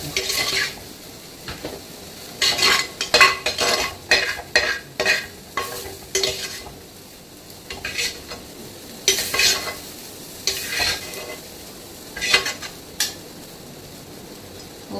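Onions, tomatoes and masala being stirred and fried in a pan, with a utensil scraping and clinking in repeated bursts over a steady close sizzle, no talking.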